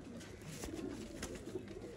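Breeder pigeons in a loft give soft, low cooing close by, a few murmuring coos under faint background noise.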